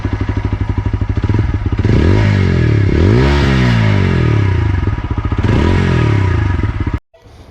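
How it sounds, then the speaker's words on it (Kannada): A TVS Apache RTR 160 4V motorcycle runs loudly up close, its engine revving up and falling back in repeated sweeps with a steady throbbing beat before cutting off abruptly near the end. "ಸೊ ಗಾಡಿ ಸ್ಟಾರ್ಟ್ ಮಾಡ್ಕೊಂಡ ಹೋಗೋಣಂತ."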